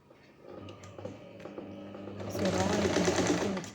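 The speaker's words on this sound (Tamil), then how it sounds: "இப்போ வந்து இதை கழுத்தை சுற்றி வந்து தைக்க ஆரம்பிச்சிடலாம்." Sewing machine stitching a shawl collar around the neck of a coat, a steady mechanical whir that builds louder toward the end over a low background hum.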